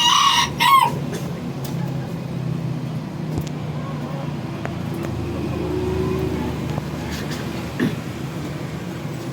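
Labuyo junglefowl hens and a rooster cluck in a yard, with a sharp crow near the start and scattered calls after it. A low rumble of traffic or wind runs underneath.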